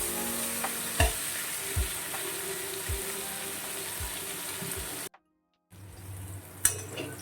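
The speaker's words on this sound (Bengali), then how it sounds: "পেঁয়াজটা ভালোভাবে ভাজা হয়ে গেছে" Onions fry in a pan with a pinch of salt, a steady low sizzle with periodic knocks of a spatula, cut off by a short silence before the frying resumes.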